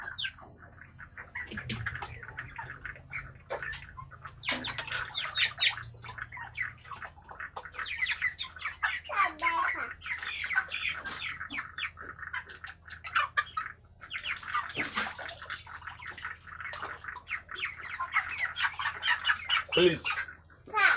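Birds squawk and call in a dense, continuous chatter while being soaked in water to cool them from overheating, with faint splashing beneath.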